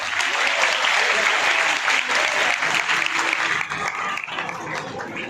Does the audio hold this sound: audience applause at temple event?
yes